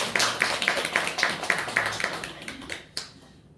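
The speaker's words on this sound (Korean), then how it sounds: "우리 박수 한번 하겠습니다" Worshippers at a morning church service clap in brisk, regular beats to greet newcomers, the clapping thinning out and stopping after about three seconds with a last isolated clap.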